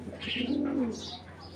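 A Giribaj tournament pigeon gives one close, rolling coo that swells and fades, with a few lighter chirpy notes around it in a quiet setting.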